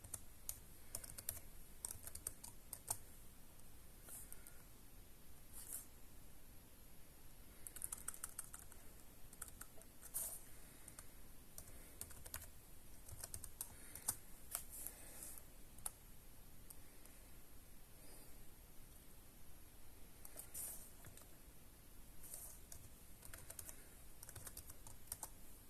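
Rapid typing on a computer keyboard while a password is set during a Pop!_OS Linux install to a USB drive; steady, close clicking keystrokes run throughout with brief pauses and no talking.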